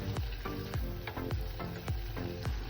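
Onions and liver sautéing together in a pan for fried rice, a dense continuous sizzle broken by regular, repeated stirring strokes about every third of a second.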